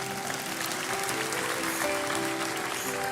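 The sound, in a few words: congregation applauding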